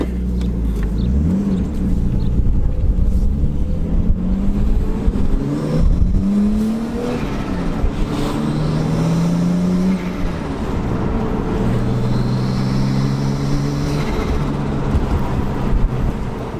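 A turbocharged RB25-swapped R32 Nissan Skyline with a 5-inch exhaust revs and accelerates loudly and continuously, its pitch climbing through several gear changes, with no talking.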